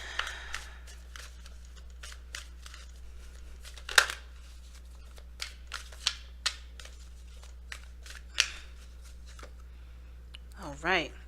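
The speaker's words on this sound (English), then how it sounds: "So let's take a look at your Saturday card." Tarot cards being shuffled in short, irregular riffles and flicks, fairly close and soft over a steady low hum, with a brief rising whistle-like sound near the end.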